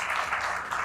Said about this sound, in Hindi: मैं चाहूँगी सबसे पहले तो तालियों से स्वागत कीजिए